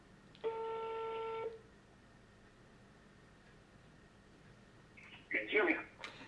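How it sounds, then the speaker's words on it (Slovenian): A telephone gives one steady tone lasting about a second while a call is being placed, then a stretch of quiet hiss follows, ending in a few brief, louder bursts of sound. "Moram narediti en telefonski klic."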